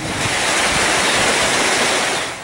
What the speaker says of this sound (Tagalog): Naranasan din ang malakas na ulan at hangin sa Tagbilaran, Bohol.